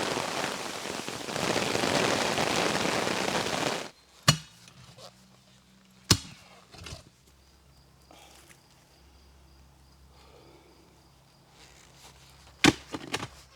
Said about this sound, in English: Started raining very hard. It's extremely wet.